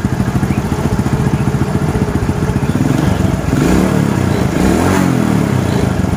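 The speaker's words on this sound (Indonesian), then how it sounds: "Nah, sekarang kita coba gas agak kenceng ya." Honda Supra X 100 motorcycle engine revved harder at close range, a loud steady chugging that rises and thickens midway as the throttle opens further, with no talk over it.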